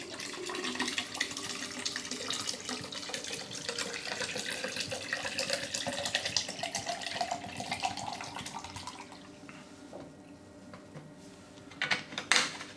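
Preservation liquid pours into the tube of a HiFlo RO filter, a steady splashing, gurgling stream close by that thins out near the end before a few louder clunks.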